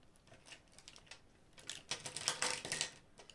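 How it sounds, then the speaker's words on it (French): Pencils clatter and tap on a table in a quiet room, light scattered clicks that thicken into a denser rattling burst before fading, no talking. "Désolée pour le bruit des crayons si ça résonne dans le téléphone."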